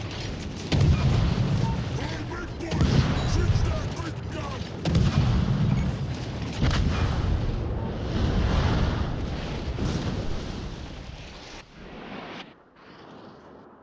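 Naval guns fire and shells explode in a World of Warships Legends battle: repeated deep booms and rumbling blasts at irregular intervals, heavy and close, fading toward the end.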